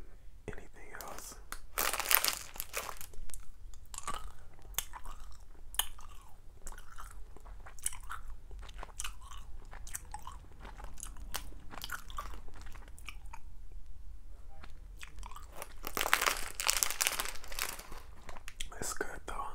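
Popcorn-flavoured jellybeans chewed close to the microphone in an intimate setting, with soft wet bites and mouth sounds repeating through the stretch, a few louder crinkling bursts, and quiet whispering between them.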